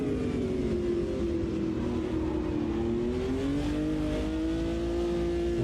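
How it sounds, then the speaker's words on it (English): Race car engine in the sim racing game Automobilista 2, a steady loud roar with layered tones that seem like two engines, rising and falling smoothly in pitch as the car drives along a modded track without pause. "It's almost got two engine sounds going on there."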